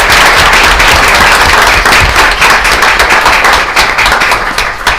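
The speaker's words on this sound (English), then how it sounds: "y'all help me give her a round of applause" Audience members at a school board meeting clap for a STEM coordinator, the applause loud and close, with individual sharp hand claps standing out in an uneven, crackling rhythm that tapers off slightly toward the end.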